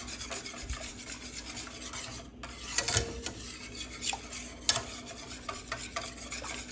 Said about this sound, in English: It's just about whipping